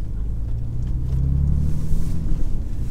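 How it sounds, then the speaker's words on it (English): A lowered Porsche 996 rolls over a speed bump, heard as a loud, close low-frequency rumble of the engine and suspension swelling briefly and then fading back to a steady drone, with no talk. "when you lower these Porsches, they still go over speed bumps like this absolutely fine"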